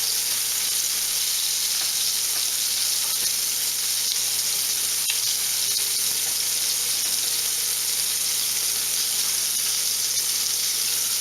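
Fish fillets coated in Shore Lunch Cajun-style breading fry in hot oil with a steady, dense sizzle and crackle, close up and unbroken the whole time, with no voices.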